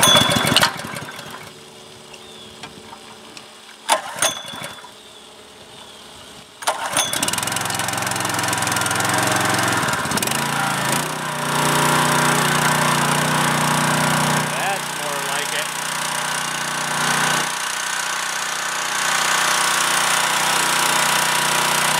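A DeWalt pressure washer with a Honda GX200 6.5 HP engine gets a couple of pull-start attempts, then catches and runs at a steady, loud, close drone, its pitch shifting now and then, with someone talking briefly.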